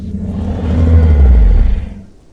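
A deep, rumbling friendly call of a large creature in the game Path of Titans that builds gradually to a throaty peak, then trails off, heard alone without any talking.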